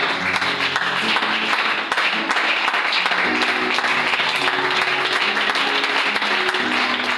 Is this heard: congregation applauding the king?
yes